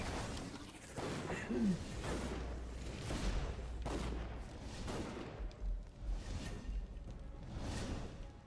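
Rifle gunfire in the fantasy action game Dungeon Siege III, a run of muffled repeated shots and whooshing blasts at uneven intervals, fairly quiet amid low rumbling combat noise.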